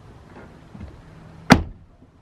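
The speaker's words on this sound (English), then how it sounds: "This door of the F-150 has a nice soft sound to it when you close the door." A Ford F-150 pickup door swings shut with one soft, damped thud, close by and brief, after a stretch of quiet.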